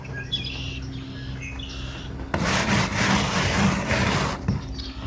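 A hand works polish into a small rusty patch on metal, giving a dense, close rubbing hiss that swells loudly for about two seconds in the middle, with quieter faint chirps before and after.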